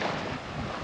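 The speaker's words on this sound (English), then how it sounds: "So you probably can hear there is a little bit of wind out there." Steady wind blows across the coast of a remote Great Barrier Reef island, a continuous broad rush buffeting the microphone with no pauses.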